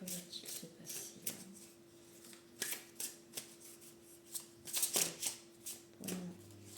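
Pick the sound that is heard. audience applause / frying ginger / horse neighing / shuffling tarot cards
shuffling tarot cards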